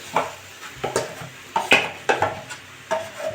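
A spoon stirs a mashed potato mixture in a frying pan for aloo paratha, making a series of scraping, clattering strokes in an uneven rhythm, close and moderately loud, with a light sizzle underneath and no voices.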